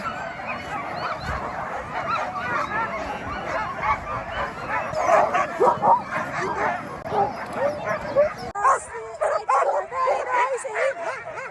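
Excited sled huskies barking and yipping in a chorus at a husky farm in Saariselkä, Lapland, close and loud, with a person talking over the din.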